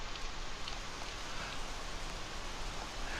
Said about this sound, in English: in xplane 11, you hear the rain, but you don't see it